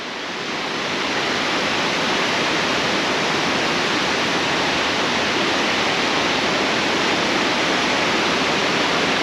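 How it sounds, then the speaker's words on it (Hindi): Small waterfall in Bosnia pouring water over rocks, a loud, steady, unbroken rushing roar close by with no voices. "ये यहाँ से ये फॉल शुरू हो गया जो ऊपर से पानी आ रहा है"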